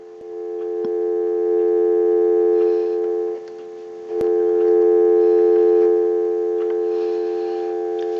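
Steady electronic dial tone from a Spirit of St. Louis Mark IV telephone on speakerphone, loud and continuous with one brief dip and a click partway through, no voices.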